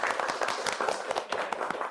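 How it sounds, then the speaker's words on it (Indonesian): A classroom of students clapping together in brief applause for classmates who answered, a short rhythmic burst of many hands at moderate volume. "tepuk tangan untuk yang sudah jawab"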